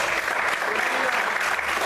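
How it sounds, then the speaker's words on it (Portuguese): A church congregation applauding during a sermon, a loud, sustained roar of many hands clapping, close and continuous, with faint voices mixed in. "Você pode aplaudir o Senhor por isso"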